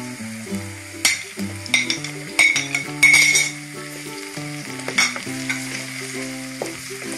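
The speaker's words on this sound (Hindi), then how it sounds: "अब मैं थोड़ी देर के लिए ना मसाले में चम्मच हिला लेती हूँ।" A spoon stirs masala sizzling in a frying pan as tomatoes fry in the spice base for a ridge gourd curry, with steady crackling sizzle, several sharp clinks of metal against the pan, and no talking.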